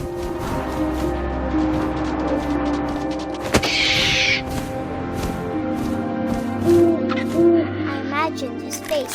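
An owl hoots softly amid wind and ambient music in the video game What Remains of Edith Finch, with a narrating voice over the top.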